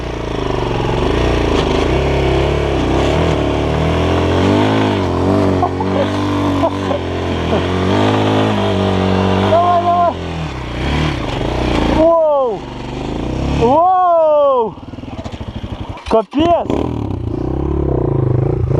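A motorcycle engine on a forest trail revs in gear, its pitch sweeping up and down in repeated loud, close surges that grow sharper and more broken toward the end.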